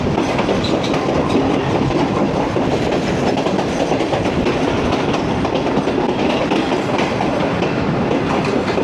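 The Pak Business Express passenger train, a premium Lahore to Karachi service, rolls along the rails with a loud, continuous rumble and rattle heard from on board, steady throughout with no pauses.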